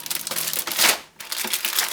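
Thin plastic bags holding the sprues of an Academy HMMWV M1151 model kit crinkle and rustle loudly up close, with a brief pause midway before the handling resumes.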